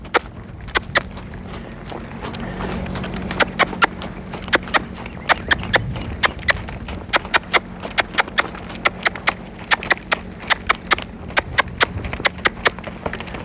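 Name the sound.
horse hooves trotting and loping while lunging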